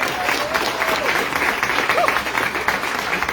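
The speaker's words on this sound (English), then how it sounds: "Let's have a great round of applause for both." An audience at an evening event applauds steadily for a few seconds, a dense wash of clapping with faint voices underneath.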